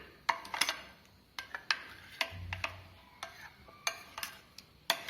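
A utensil taps and scrapes against a bowl while saffron is stirred into jaggery pancake batter, sharp irregular clicks spaced apart, close and fairly quiet with no speech.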